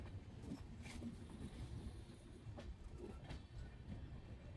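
Wheels of the Pahariya Express, 15722 from Howrah to Digha, rumble and clack over railway points, heard from inside the train as a steady low roar with faint rhythmic clicks and no talk.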